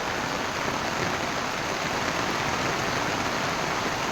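Heavy monsoon rain pours down steadily in Mahabaleshwar, a dense, unbroken roar of water at constant loudness, with no voices.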